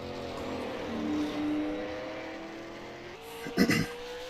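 A super late model race car at New Smyrna warms its tires on track, engine droning steadily and shifting pitch as it weaves, with a brief louder burst near the end.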